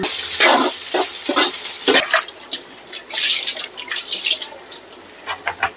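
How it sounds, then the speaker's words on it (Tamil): Liquid being poured into a cooking pot splashes and pours in bursts with short pauses, a steady watery rush close by, with no talking. "இப்போ நான் கரைச்சி வச்சதை இதில் ஊற்றிடுறேன்"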